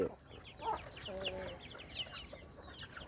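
Domestic village chickens in a low-cost coop cluck in short, faint bursts, with a few scattered calls against quiet farm background noise.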